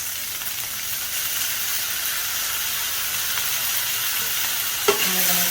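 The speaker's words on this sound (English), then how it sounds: "Now that our rice is nice and hot, I'm going to add in about 2 tablespoons of soy sauce." Soy sauce hitting hot fried rice in a pan gives a steady, close sizzle and steamy hiss the whole way through, with a faint clink near the end and no talk.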